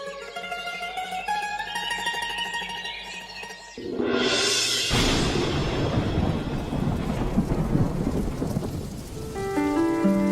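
Cartoon thunderstorm: musical score gives way to a loud thunder crack, then heavy rain pours steadily and densely, close and continuous, with music returning faintly at the end.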